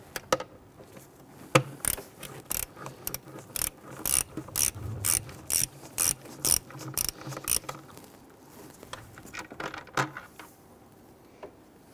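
A ratchet removes bolts on a 1999–2004 Jeep Grand Cherokee 4.7L V8 during fuel injector replacement, close rhythmic clicking bursts in quick runs with brief pauses, no talking.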